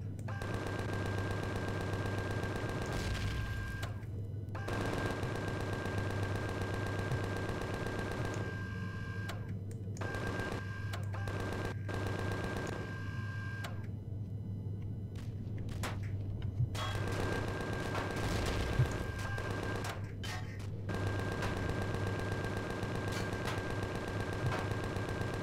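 Bursts of automatic gunfire in the survival game Empyrion Galactic Survival, aimed at big bugs, repeated rapid volleys over a steady low hum, broken by short quiet gaps.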